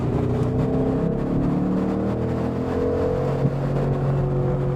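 A Ford Mustang Boss 302 V8 with its exhaust baffle removed runs with a steady, loud, throaty drone from inside or beside the car, holding a near-constant pitch with no talking.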